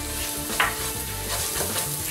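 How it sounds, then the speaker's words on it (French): Onions frying in a pan as veal stock powder is stirred in for a chicken liver tajine, a close, steady sizzle with scraping spoon strokes and a clink, no talking. "je vais la mettre directement dans les oignons et je vais les mélanger"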